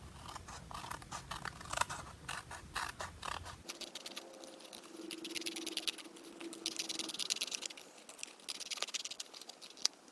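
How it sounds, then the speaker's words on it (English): Scissors snipping paper while cutting around a glued-down shape in a first grade classroom craft, a run of quick, faint, close snips and paper rustles, no voices. "we're going to cut around the shape that we glued"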